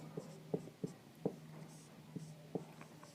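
Pen or chalk taps out handwriting during a maths lesson, a handful of short, distinct strokes at irregular intervals, faint and close in a quiet room.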